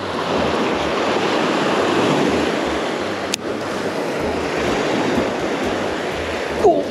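Ocean surf breaks and washes steadily on a beach during morning surf fishing, a constant broad roar of waves with wind buffeting the microphone and a brief knock partway through.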